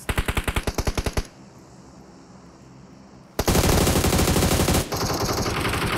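Rapid automatic gunfire rings out in a PUBG Mobile / New State match: a rhythmic burst of evenly spaced shots, a short lull, then a long loud, dense volley that drops slightly in intensity before continuing.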